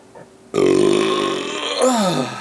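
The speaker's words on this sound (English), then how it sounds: "Zero sugar burp." One long, loud, croaky burp after drinking a zero-sugar drink rises and warbles close to the microphone for nearly two seconds.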